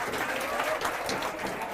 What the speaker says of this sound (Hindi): तो इन लोगों की सफलता पर तो आप सभी लोग ताली बजा ही रहे हैं।